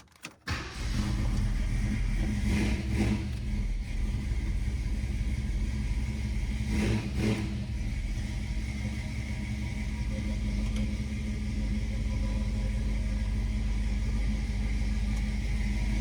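A 1969 Ford Mustang Fastback cranks over briefly, fires and settles into a loud, steady idle that holds evenly with a few slight swells in level, heard close up.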